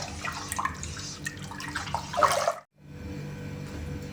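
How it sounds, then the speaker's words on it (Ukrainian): Brine pours and splashes into a jar of cucumbers for pickling for a couple of seconds, stops briefly, then a softer watery trickle and room noise continue. "заливаємо розсіл в банку."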